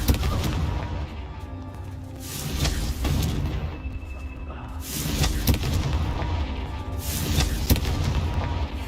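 A Confringo blasting spell detonates in the Hogwarts Legacy video game, giving repeated booming blasts with rumbling low-end bursts over a dense, continuous background of game sound, with no talking.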